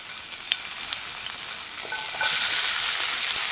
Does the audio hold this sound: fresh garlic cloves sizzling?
yes